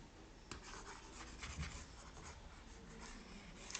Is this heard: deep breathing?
no